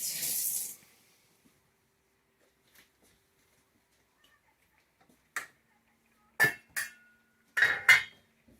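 Brazilian fish stew being ladled from a pot, heard as a handful of sharp metallic clinks and knocks of a utensil against the pot rim, spaced apart with quiet gaps between, fairly close and unaccompanied by talk.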